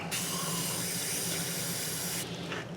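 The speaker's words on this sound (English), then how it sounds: "And then I'll take some brake clean, and we'll shoot that out." An aerosol can of brake cleaner sprays in one steady, continuous hiss lasting a few seconds, fairly faint and close, flushing a 2000 Chevy Silverado 1500 4x4 rear brake.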